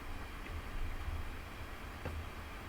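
A Class 175 diesel train in Train Simulator Classic on the North Wales Coast Line rumbles past in a steady, low, continuous drone with a faint clack of wheels, fairly quiet throughout.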